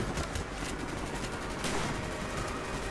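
Sustained automatic fire from a machine gun in the Call of Duty: Black Ops campaign, a dense, steady rattle of rapid shots running the whole stretch at constant loudness, with no talking over it.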